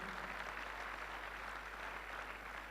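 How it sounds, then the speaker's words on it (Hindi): Audience applause at a business recognition event, a dense steady wash of many hands clapping that fills the whole stretch without a break, with no voices over it. "बहुत तालियों की जरूरत है क्योंकि they are in diamond qualification."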